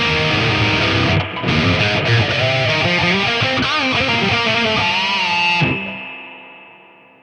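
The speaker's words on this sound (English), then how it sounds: "It is just like the most ear-piercing, shrill reverb ever." An old guitar amplifier with its reverb turned all the way up, giving loud, harsh, distorted guitar notes that are drenched in shrill, ringing reverb and trail off into a fading wash at the end.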